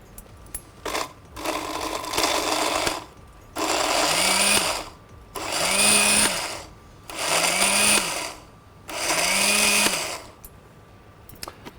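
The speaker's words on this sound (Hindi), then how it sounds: "लेकर इसको अब ग्राइंडर से ग्राइंड करना है" A kitchen grinder whirs through spices in four loud bursts of a few seconds each, with a rising motor whine at every start and short pauses between runs, preceded by a rougher stretch of grinding.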